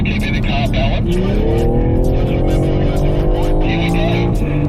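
A BMW M3 Touring on a wet race track, its engine rising and falling as it accelerates through corners, with tire hiss and spray beneath, loud and close from inside the car while someone talks over it.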